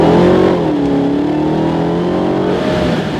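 A 2016 Dodge Charger SRT Hellcat accelerates hard, its engine roaring loud and close with rising harmonic tones and a brief gear change, no talking over it.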